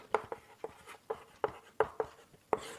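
Pen or marker strokes on paper during a Class 10 maths lesson on substitution and elimination methods, a series of short scratchy taps and strokes in an uneven rhythm, close and fairly quiet, with no voice.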